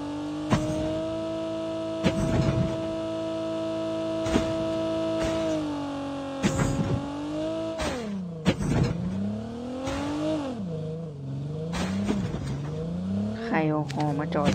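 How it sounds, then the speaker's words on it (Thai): A car in Call of Duty Mobile rolls along by itself, its engine droning steadily with pitch sweeps and dips, fairly loud and close throughout. "เฮ้ยรถไหลเอง"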